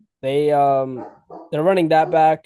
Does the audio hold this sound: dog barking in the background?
yes